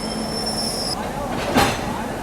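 A Howrah shed WAP-7 electric locomotive moves in to couple to a rake, giving a steady rumble with a high tonal whine that stops partway through, then a brief louder metallic squeal.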